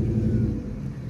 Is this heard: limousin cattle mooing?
no